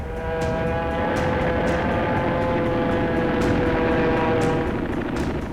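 Steady droning propeller aircraft engines over ships offshore during a World War II air raid, a sustained loud hum with faint periodic clicks, heard with no voices.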